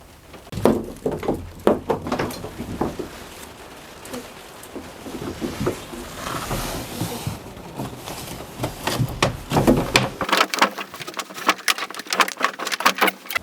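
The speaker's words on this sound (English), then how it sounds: "I really like hearing the sound of the rain on this aluminum roof." Rain falling on the aluminum roof of a custom diesel RV, heard from inside as irregular tapping and pattering, some drops sharp and close, scattered over a quiet background.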